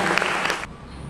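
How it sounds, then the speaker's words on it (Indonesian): Audience applause at an Earth Day talk show in Palembang, a dense burst of clapping for about two-thirds of a second that then drops to a quieter room tone. "Mari beri tepuk tangan yang meriah."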